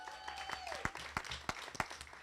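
An audience at a migrant education speech competition awards ceremony applauds and cheers, a room full of steady clapping with a few sharper claps and a high whistle or whoop early on, moderately distant.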